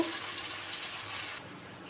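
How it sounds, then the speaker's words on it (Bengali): Water poured into a pot of potato curry with yogurt and spices, giving a steady close rushing pour that runs for about a second and a half, then softens. "এবার পরিমাণ মতো জল দেব।"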